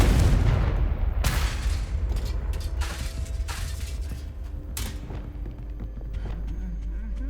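Confringo spell blasts from the video game Hogwarts Legacy boom and crack in sharp bursts over a dense rumbling game soundscape, with a few separate impacts spread across the stretch.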